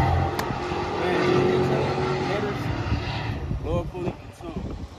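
A Camaro SS engine idles nearby with a steady low rumble at a roll-racing event, a voice talking over it and other vehicle noise around.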